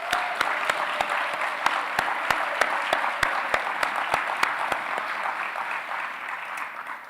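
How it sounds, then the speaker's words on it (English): Audience at a physical therapy doctoral convocation ceremony applauds the graduates, a dense, steady roar of clapping punctuated by sharp, evenly spaced clicks, gradually easing toward the end. "Let's give them a big round of applause."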